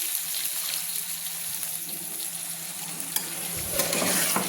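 Pumpkin and potato curry is stirred in a pan just after water is added, giving a steady close scraping and bubbling sizzle that swells toward the end.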